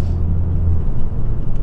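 A stock Ford Focus ST hot hatch engine gives a steady, loud low rumble with a deep droning tone, heard close and continuous with no voices.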